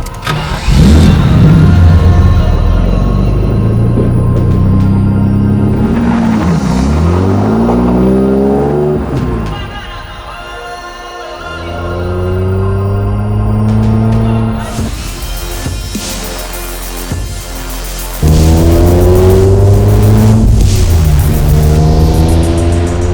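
A 1993 BMW 850Ci starts and drives off, its engine loud and close as it revs up through rising gear pulls, eases back to a lower drone, then climbs again in a further run of upshifts.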